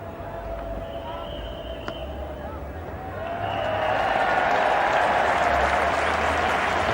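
Cricket crowd at The Oval in 1986 applauding in a one-day international, England against India, steady clapping that swells louder and fuller midway and holds, heard at a distance across the ground.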